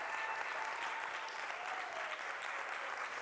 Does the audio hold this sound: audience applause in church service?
yes